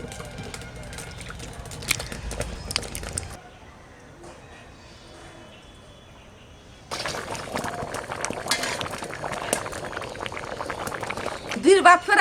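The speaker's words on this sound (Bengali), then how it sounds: "ফুটগিয়ে গেছে" Broken rice and potatoes boil in a pot for a rice dish, a steady bubbling churn that fades out for a few seconds, then returns louder with clinks near the end.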